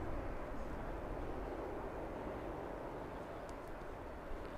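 A Boeing Dreamliner on approach into London Heathrow Airport gives a steady, distant broadband jet roar that fades only slightly, with no voices over it.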